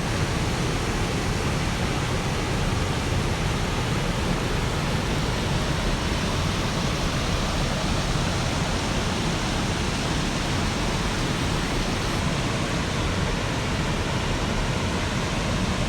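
Falling water at the Pourcheyrolles waterfall in France roars without pause, a broad, constant rush like standing right beside it.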